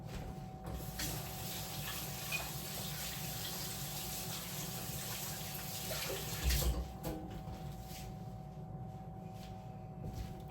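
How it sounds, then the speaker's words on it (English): Hands rinsed under a running kitchen water tap, a steady, fairly quiet stream of water splashing continuously with a brief louder splash partway through. "I'm gonna rinse my hands really quick"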